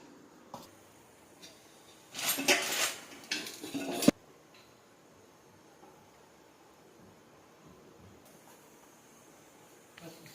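Aloo paratha set on a hot pan to roast gives a loud, brief burst of clattering sizzle lasting about two seconds, then settles into a faint, steady background hiss with occasional light knocks.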